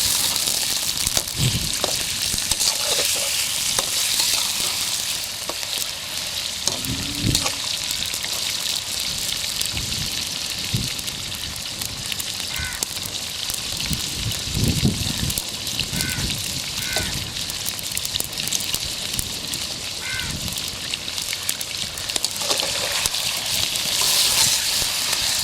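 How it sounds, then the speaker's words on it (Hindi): Chicken pieces fry in hot oil in a karahi for Cholistani street-style chicken karahi, a steady dense sizzle running the whole time with scattered pops and crackles, close and fairly loud, no voices. "गोश्त का कलर चेंज होने तक ऑयल में पका लेंगे।"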